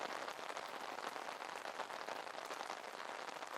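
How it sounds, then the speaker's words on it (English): Soft, steady rain patters in a continuous fine hiss, faint and even throughout, with no voices or other sounds. "They can hear the sound of that rain, sounding so gentle and relaxing on that umbrella."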